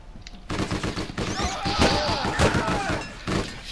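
A G36 rifle fires in the online game APB Reloaded, a loud sustained burst of shots mixed with game noise and a clattering impact.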